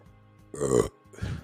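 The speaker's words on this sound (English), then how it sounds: "I should have moved the mic from my mouth instead of just burping all over this mic." A loud, close burp belched straight into a podcast microphone, a long rumbling belch followed by a shorter second one after a brief pause, over faint background hum.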